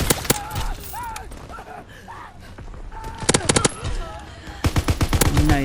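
Rapid video game gunfire in bursts of sharp automatic shots, loud and close, mixed with a voice and other game sounds.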